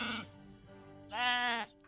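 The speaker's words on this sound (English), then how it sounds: "Robbie, bring those sheep to me." Sheep bleat in the real-time strategy game Age of Empires III, two drawn-out wavering calls with a quiet gap between them, clear and fairly close with no talk.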